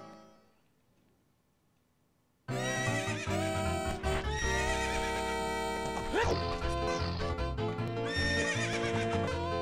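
A horse in The Legend of Zelda: Ocarina of Time whinnies loudly, with clip-clopping hooves and game sounds following a quiet start.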